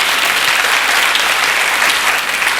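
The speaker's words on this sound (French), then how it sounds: "Mais on applaudit nos mannequins." A studio audience at a 1970 French television game show applauds the models, giving a loud, dense, continuous burst of clapping that fills the whole short moment.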